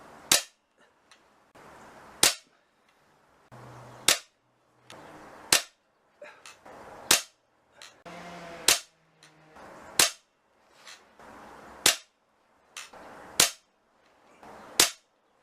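A ten-year-old AGS PCR1 air rifle fires 21.4-grain Bisley Magnum pellets, giving about ten sharp, loud, evenly spaced cracks with faint clicks and handling between shots and no talk.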